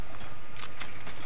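A weapon reloaded in a video game, heard as a couple of quick mechanical clicks over a constant, dense game background, short and close.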